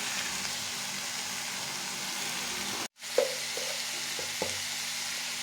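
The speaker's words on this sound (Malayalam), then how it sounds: "നമ്മൾ ആവശ്യത്തിന് വെളിച്ചെണ്ണ ഒഴിച്ച് വയറ്റിയെടുക്കണം" Ivy gourd fries in coconut oil for a curry, giving a steady close sizzle with a brief break partway through and a few light stirring knocks afterward.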